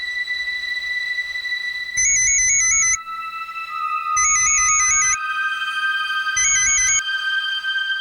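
A phone rings through a handset while a call to Akhilesh is placed, three bursts of a warbling electronic ringtone each lasting about a second, evenly spaced over steady tones.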